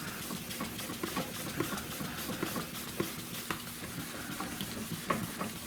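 Car paint being wet sanded by hand, a close, steady wet scrubbing hiss with light rhythmic strokes and small scraping ticks running throughout.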